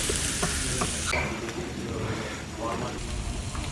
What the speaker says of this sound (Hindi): ये कुन्ना हमारा उबल रहा है।